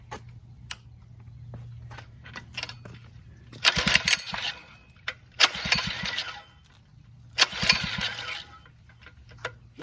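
Small Phatmoto motorized bicycle engine on full choke, with repeated sputtering start attempts that catch briefly in rough bursts over a faint background hum.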